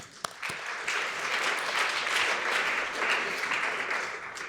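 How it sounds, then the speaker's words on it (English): An audience at a healthcare partnership conference breaks into sustained applause, dense clapping from many hands filling the hall, fairly loud and close, lasting several seconds with no talking over it. "round of applause for being a great audience"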